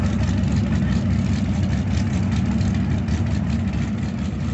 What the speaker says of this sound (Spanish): Atrás de ellos se viene el tractor.